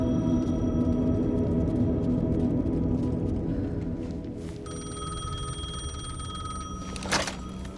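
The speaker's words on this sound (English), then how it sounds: "Payphone was ringing." A payphone rings in the Alan Wake 2 video game: a steady electronic ringing tone heard over a low, dense ambient hum, with a brief sharp burst near the end.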